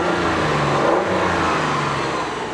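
A Hyundai Santa Fe SUV's 3.5-liter V6 engine revs loudly and steadily up close, a sustained throaty drone that holds level with slight swells throughout.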